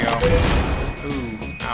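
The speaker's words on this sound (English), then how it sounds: "time for a frag grenade" A frag grenade blast in the video game StarCrawlers, a dense loud burst of rumbling, crackling noise that fills the short clip and slowly tapers, with a thin steady tone running underneath.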